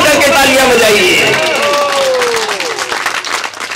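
Audience applause at a Hindi comic poetry gathering (hasya kavi sammelan), a loud, dense burst of many hands clapping with crowd noise and voices mixed in, thinning slightly toward the end.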